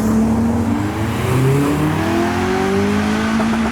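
A modified Mazda MX-5 pulls away from a Japanese car meet in Reading, its engine note climbing steadily through the revs, loud and close, with a second rising tone layered underneath.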